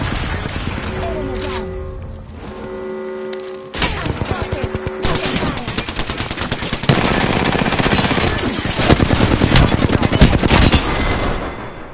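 Heavy, sustained automatic gunfire in Apex Legends, loud rapid bursts and overlapping shots nearly continuous throughout, with brief voiced callouts in the mix.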